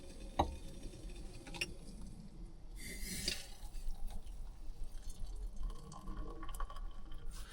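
Hot tea poured from a kettle at a camping kit setup makes a brief, soft splashing trickle partway through, faint against a quiet outdoor background with a few small ticks and clinks.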